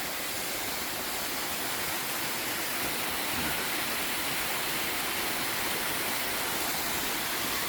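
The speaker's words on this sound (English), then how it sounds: "to a decent little waterfall here, as you guys can see." A small waterfall in a jungle village in Thailand gives a steady, dense rush of falling water, a broad even hiss that holds without a break throughout and is heard alone.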